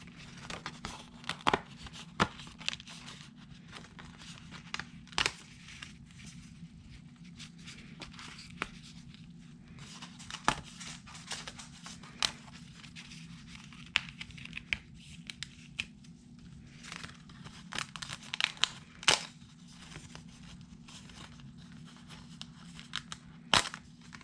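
Paper card bases are pulled from a Paper Pumpkin craft kit, giving close, scattered rustling, crinkling and sliding paper sounds with sharp little snaps over a low steady hum.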